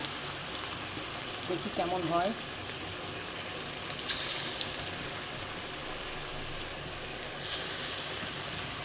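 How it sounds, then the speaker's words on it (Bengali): Chicken pakora frying in hot oil on medium-low heat, a steady soft crackling sizzle that runs the whole time with a few sharper pops, while someone briefly talks over it. "আমি শুরু করে দিচ্ছি ভাজা"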